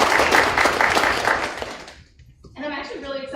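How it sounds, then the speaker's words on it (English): Audience applause at a school board meeting, brisk clapping that fades out after about two seconds, followed by a speaking voice. "So if we could give a round of applause for Dean."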